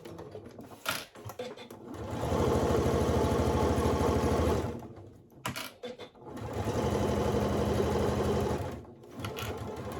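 A sewing machine stitches a make-up bag in two steady runs of fast, even mechanical whirring, separated by short pauses and quiet handling, close and clear.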